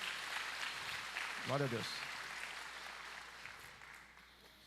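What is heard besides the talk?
congregation applauding in church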